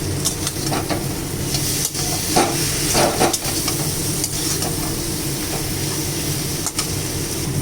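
Garlic sizzles and crackles steadily in hot oil in a pan while cooking fish-head dal, a continuous close frying hiss with occasional stirring scrapes and no voices.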